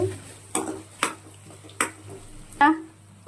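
A few sharp knocks and taps in a pan of spicy tomato pulp as an egg is cracked into it, with a soft sizzle running underneath and a louder clack near the end.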